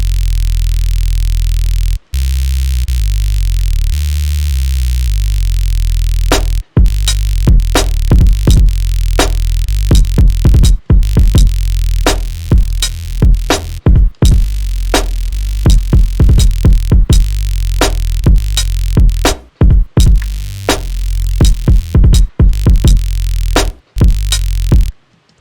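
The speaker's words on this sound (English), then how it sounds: "Just a basic, really well processed sawtooth wave." A basic, heavily processed sawtooth-wave synth bass plays alone, loud and dense, in choppy rhythmic stabs with brief gaps and repeated sharp cut-offs.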